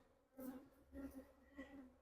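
A bee buzzes close by inside a beekeeper's veil in three rising and fading bursts, the droning hum loud and near against a quiet background.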